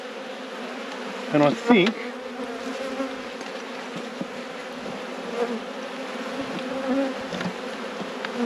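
Honeybees buzz steadily throughout a beehive inspection while frames are handled, a constant close insect drone with a few louder bursts near the start and a brief spoken remark.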